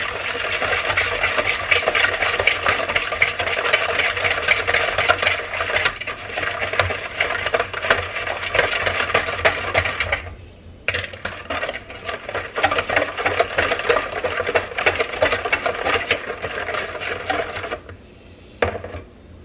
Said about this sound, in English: I've got all my like wet ingredients in here. I'm gonna mix those in and then I'll add the flour in.